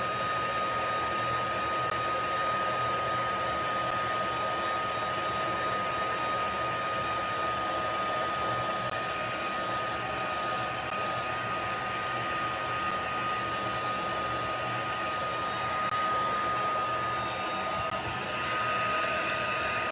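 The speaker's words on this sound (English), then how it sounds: "the white embossing powder is heated and melted to the cardstock" A heat tool blows and hums steadily for the whole stretch while melting white embossing powder onto cardstock, a constant close whir with no talking.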